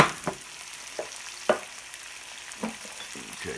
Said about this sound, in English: We're just going to saute this for about